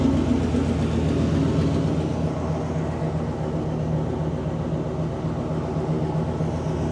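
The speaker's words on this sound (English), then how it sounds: "Gotta love the way a Pontiac engine sound." A 1977 Pontiac Bonneville engine runs at a steady idle, a continuous low rumble at even loudness with no talk over it.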